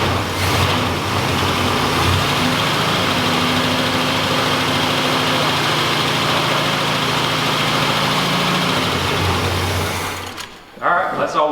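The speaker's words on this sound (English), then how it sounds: "Now we did get the car running" A 1986 Oldsmobile Cutlass, freshly revived from a junkyard, idles steadily with a continuous engine drone that holds for about ten seconds before cutting off, with faint voices underneath.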